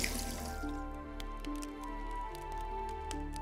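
Liquid being poured during a mixing puzzle in the video game Grim Legends 2, a faint trickling patter with small drips over a soft musical background, no talk.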